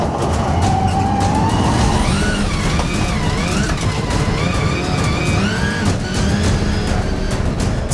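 Subaru rallycross cars race on a rutted dirt track, their engines loud and close, revving hard with rising and falling pitch through gear changes and a constant roar underneath.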